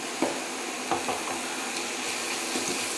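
Onions sautéing over medium to high heat for a beef goulash, a steady broadband sizzle with a few soft stirring knocks from a utensil in the pan, close and unbroken by speech.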